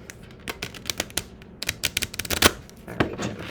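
A very thick, large deck of cards is shuffled in portions, giving quick, close, crisp bursts of riffling and snapping clicks in uneven clusters.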